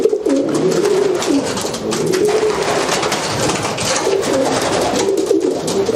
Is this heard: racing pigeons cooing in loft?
yes